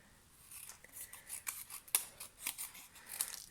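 Scissors snip paper for handmade Christmas crackers in a series of short, soft, close cuts at an uneven pace, quiet and without talking.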